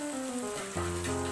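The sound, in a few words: soybeans poured into frying spice paste, sizzling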